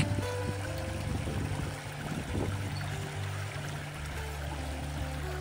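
River water runs over stones on Dartmoor, a continuous rushing and trickling heard up close at even loudness with no voices.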